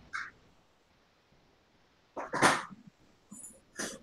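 A pet dog gives short yelps and sneezy snorts, one brief burst at the start, then a louder cluster a couple of seconds later and two more quick sounds near the end, close by in a quiet room.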